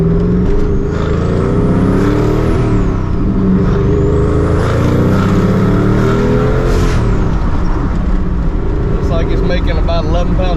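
A twin-turbo car accelerating hard on a test drive, loud rising engine roar with turbo whine sweeping up and down through the gears, continuous and close, with a voice talking over it near the end.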